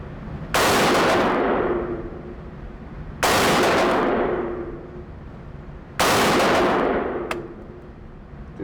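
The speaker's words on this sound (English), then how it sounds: "Do 5-shot groups on the side so we can make it halfway through a magazine." Three single shots from a Tommy Built TG36K, an HK G36 clone rifle, fired at an outdoor range. Each loud, sharp crack is followed by a long rolling decay, with the shots spaced a few seconds apart.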